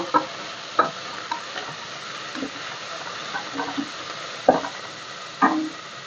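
Chopped fenugreek leaves stirred into frying onions in a pan, a low steady sizzle broken by several sharp spoon scrapes and knocks spaced a second or more apart.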